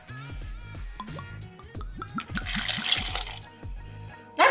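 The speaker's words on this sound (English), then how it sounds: "So here's the perfect time for us to try the Casamigos together. Here it is. And we got some grape juice as the chaser here. So let's pour a little up." Casamigos tequila pours into a shot glass, a short trickle of liquid that rises in pitch as the glass fills, with light clinks and handling before it and a sharp knock at the end.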